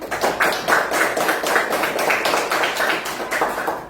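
Classroom applause for a classmate, a small group of students clapping in a quick, fairly rhythmic patter, close and loud, steady throughout.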